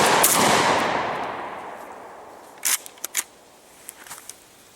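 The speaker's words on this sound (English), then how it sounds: "We'll load it up here in the VEPR, take a few shots, and see how that gas system works." A Molot VEPR 12 semi-auto AK-style 12 gauge shotgun fires a loud single Winchester shell with a long decaying echo, followed by several sharp metallic clacks of handling.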